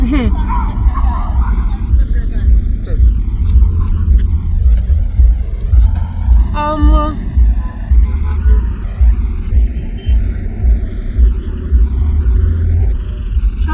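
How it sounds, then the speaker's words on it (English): Dense road traffic in Ghana fills both lanes, a steady loud rumble of engines and tyres with passing vehicles, while people talk and chatter throughout the street noise. "traffic everywhere, both lanes"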